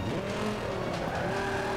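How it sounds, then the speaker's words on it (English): A 2013 Dodge Viper roars at speed during a hypercar race in Forza 5, a dense, loud engine drone with rising harmonic tones, continuous and alone, with tire noise mixed in. "Listen to that freaking 676 horsepower."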